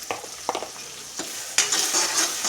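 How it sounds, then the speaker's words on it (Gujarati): Ground spices, dried chili, coriander-cumin powder, chili powder and turmeric sautéing in a pan, with scraping spatula strokes and a sizzle that swells loudly in the second half, close up and with no talk. "એ બધું નાખી અને મસાલાને થોડી વાર સાંતળવા દઈશું"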